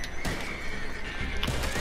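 A horse in the video game Red Dead gives a loud, close whinny over a couple of seconds, with some hoof and movement noise around it.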